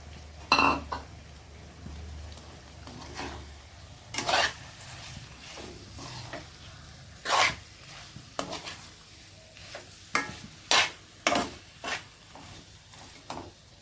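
Fried jackfruit pieces stirred into spiced masala in a pan for veg mutton curry: a steady sizzle under repeated sharp scrapes and clinks of a spoon against the pan, coming in irregular bursts, close and fairly loud.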